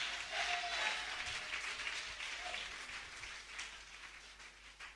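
A church congregation applauding and acclaiming the Lord during a special service: sustained dense clapping from many hands, strongest at first and gradually easing, heard at a moderate distance.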